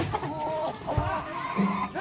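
A chicken with a swollen eye clucks close by in a few short, throaty bursts, with a low thump partway through.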